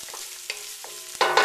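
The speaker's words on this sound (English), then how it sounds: "give it another stir" Stirring grated ginger in a curry pot for a creamy fish curry: a few soft scrapes and spoon knocks, the last pair louder and closer, with a faint simmer in between and no talking.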